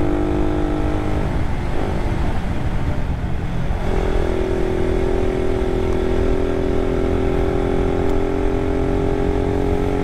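Suzuki Raider 150 carbureted motorcycle being ridden on the road toward Batangas, a loud continuous engine drone that shifts to a higher steady tone partway through, with no voices.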